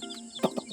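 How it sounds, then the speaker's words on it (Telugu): Three-day-old chicks give a few short, high peeping cheeps up close, two brief bright calls standing out over quiet background. "చిన్న కోడి పిల్లలు పుట్టి 3 days అవుతుంది."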